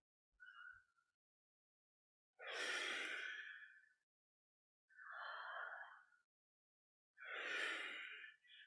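Slow yoga breaths during a kundalini kriya, drawn in through the mouth and let out through the nose, four close, soft airy breaths in a steady rhythm separated by silent pauses.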